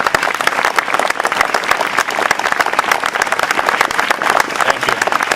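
An audience at a Beyond the Yellow Ribbon ceremony in Faribault applauds the standing steering committee, with dense, loud, sustained clapping from many hands that stays even and close throughout.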